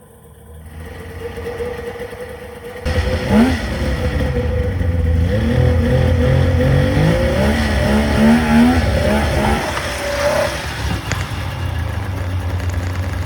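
A Polaris 600 snowmobile engine starts, then revs and idles close by, with a loud, steady, buzzing two-stroke drone, wavering pitch as the throttle is blipped, and a drop back toward idle near the end.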